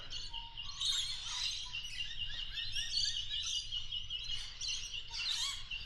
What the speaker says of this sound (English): just listen to this morning bird song